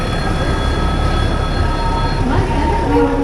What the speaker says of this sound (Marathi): फायनली मंडळी ट्रेन आलेली आहे